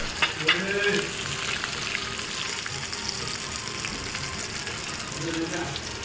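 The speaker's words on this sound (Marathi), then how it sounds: "पलटी मारणार आहोत मस्त आहे बघा छान अगदी फ्राय झालेला आहे" Pomfret fish stuffed with prawns fry in a pan with a steady, close sizzle and crackle, with a few brief louder spatters near the start.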